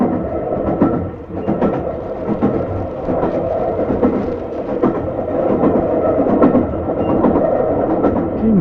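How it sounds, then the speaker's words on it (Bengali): A train standing at a railway station, a steady low rumbling drone with irregular clanks and knocks, loud and continuous, with no voices. "মনে হয় ট্রেনটা এখানে কিছুক্ষণ দাঁড়াবে"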